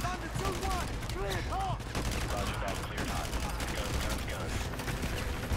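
Gunfire in Call of Duty: Modern Warfare 2 during the Loose Ends mission, a dense, continuous fusillade of overlapping shots under wailing effects and a faint voice.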